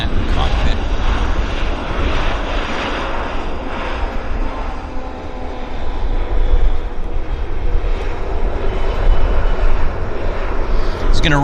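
An Air Canada airliner taxies at Vancouver Airport, a continuous rumbling engine drone with some wind buffeting on the microphone, steady and moderately loud throughout.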